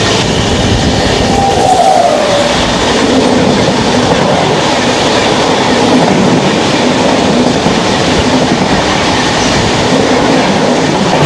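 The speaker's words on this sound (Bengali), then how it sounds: "এবার আমাদের ট্রেনের সাথে দেখা হবে ট্রেন নাম্বার 12382 নিউ দিল্লি থেকে হাওড়া পূর্বা এক্সপ্রেসের।" Purva Express passenger train no. 12382 from New Delhi to Howrah rolls past on the railway, a loud, steady roar of wheels and carriages with rhythmic clatter lasting the whole stretch.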